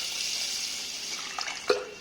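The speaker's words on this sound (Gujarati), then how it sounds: "હવે આ ચોખાને આપણે 4 થી 5 વખત પાણી નાખીને મસળીને ધોવાના છે." Rice is washed with water in a large pot, with a steady close rush of pouring water followed by a few brief splashes and sloshes as the grains are stirred.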